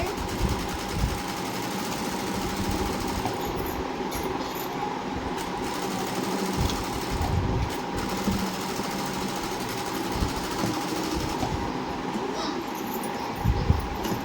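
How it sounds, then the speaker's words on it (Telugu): A sewing machine runs without stopping while stitching a blouse lining, giving a close, steady mechanical whir and rattle with a fast, even stitching rhythm throughout. "కుట్టు మీద కుట్టు, రెండో కుట్టు కూడా వేసుకోవాలి"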